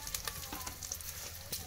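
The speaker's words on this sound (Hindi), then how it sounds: "प्याज डाल रहे हैं अब" Onions fry in oil for khichdi with a steady close sizzle and small crackles, a few brief clicks over it, and faint voices in the background.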